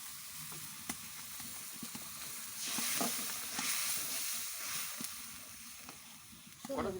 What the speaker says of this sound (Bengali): মশলাটাকে ভালো করে সাঁতলে নেবে এবার।